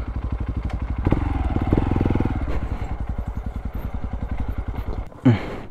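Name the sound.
motorcycle engine running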